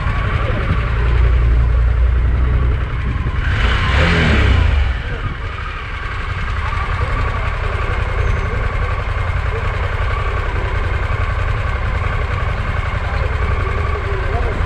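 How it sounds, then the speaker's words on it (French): A club of Porsche sports cars drives past on a mountain pass, one engine swelling loudly as it passes close, then a steady lower engine drone as more cars follow. "Des Porsche, des Ferrari, Porsche. C'est un club, ça, qui se balade."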